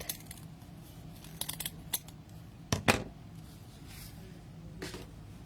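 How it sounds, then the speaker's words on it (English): Scissors snip through the bottom loops of a yarn tassel for a caramel apple beaded garland, giving two sharp close cuts in quick succession amid a few lighter handling clicks, with no talk. "And then you're going to want to take your bottom half and just give it a snip."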